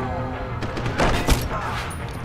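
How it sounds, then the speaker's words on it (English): Suppression gunfire in the video game Deus Ex: Human Revolution, a short burst of distant, muffled shots swelling under ambient battle noise with a sharper crack near the middle. "Suppression fire!"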